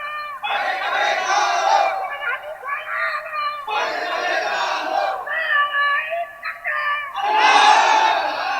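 A crowd at a religious gathering shouts takbir in unison, answering a preacher with loud, sustained chanted cries in three or four long waves separated by brief gaps.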